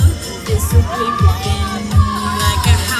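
A group of excited voices cheers and shouts at a Fourth of July event in short, overlapping bursts, loud and close, with lively whoops.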